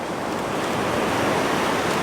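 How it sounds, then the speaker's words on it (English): Sea waves roll in steadily on a shore beside a built-up waterfront, a continuous broadband wash of surf with faint wind, loud and close, with no one speaking. "I'm just going to grab a couple of shots as the waves come in."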